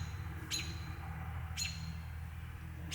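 An American robin calls outdoors, giving short bright chirps about once a second over a low background rumble, fairly faint and a little distant.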